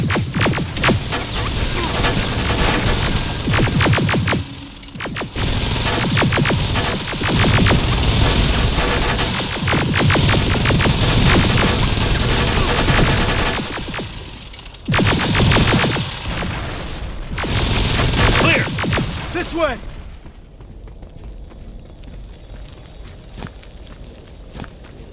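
Heavy gunfire in the video game Terminator: Resistance Annihilation Line, a loud, sustained barrage of shots and blasts with short pauses, fading out near the end.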